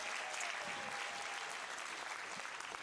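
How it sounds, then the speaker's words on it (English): A church congregation claps and applauds together at an evening service, a steady dense patter of many hands at moderate distance, sustained throughout without talk. "Can we clap it up for Jesus in this place?"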